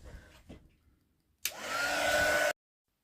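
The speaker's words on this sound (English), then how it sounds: "now we'll dry it again" A hair dryer blows onto a napkin collage, switching on abruptly with a loud steady whooshing whine for about a second before cutting off, after some faint handling noises.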